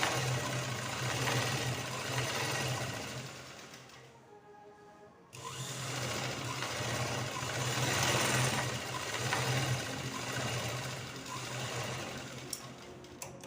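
Sewing machine stitching a one-piece dress made from a saree, its steady fast whirring motor running continuously and pausing briefly for about a second before resuming, close and alone.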